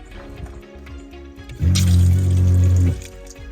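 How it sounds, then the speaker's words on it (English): A small water pump in a teardrop trailer galley runs for just over a second, a loud steady low hum that starts and stops abruptly against a quiet background. "Water pump works."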